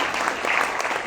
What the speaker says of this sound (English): I'd like you to applaud the author for this.